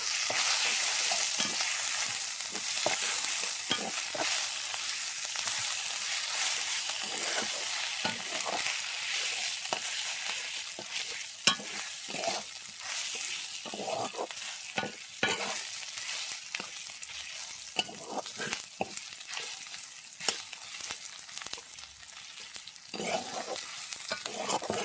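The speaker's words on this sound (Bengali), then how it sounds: "পেঁয়াজটাকে লাল লাল করে ভেজে নেব" Onions frying in oil with a ground ginger, garlic and black pepper paste, a steady bright sizzle running throughout with frequent scraping stir strokes, close and with no voices.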